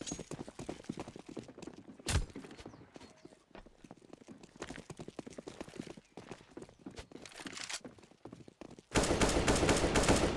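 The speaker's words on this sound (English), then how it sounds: "Alex going for the wallbang, just going to tap on away" Counter-Strike gunfire on the Inferno map, with scattered tapping shots and one sharp loud crack early on, then a louder, denser burst of fire toward the end over busy background game noise.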